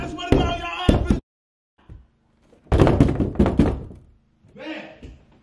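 Someone pounds hard on a door with a loud run of heavy knocks, then a pause and another burst of banging, with muffled voices and a shout in between.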